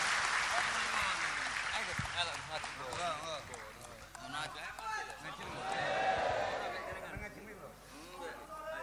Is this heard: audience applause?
yes